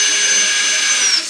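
A battery-powered cordless drill runs in a steady, close, high whine for just over a second while a dump pipe is being removed, trailing off at the very end.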